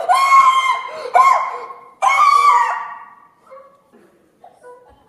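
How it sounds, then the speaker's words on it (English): Huskies snarl and yelp in a fight while one dog screams in agony, loud close shrieking bursts in three surges, then fading whimpers and yips. "They closed in on Curly, snarling and yelping, until she was buried, screaming with agony beneath the mass of dogs."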